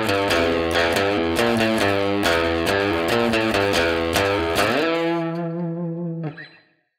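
An electric guitar with heavy effects plays a fast, choppy surf riff, then slides up into a sustained, wavering vibrato note that cuts off.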